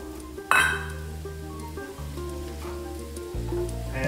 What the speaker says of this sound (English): Got my oil already heated up, and I'm gonna go ahead and get these carrots in here.